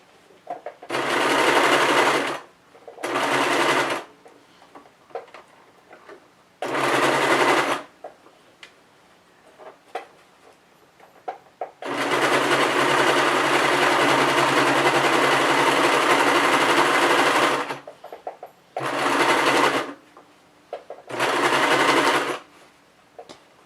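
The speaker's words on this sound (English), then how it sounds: "I just always sew with the bottom up." Sewing machine stitching a wire-edged craft piece, sewn bottom side up, in repeated close, loud bursts: several short runs, a long continuous run of about six seconds, then more short runs, with quiet pauses between and no talking.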